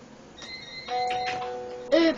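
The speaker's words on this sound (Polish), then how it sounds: "ktoś dzwoni" A doorbell chimes indoors with a clear tonal ding-dong, several sustained ringing tones followed by a brighter final chime, fairly close and alone.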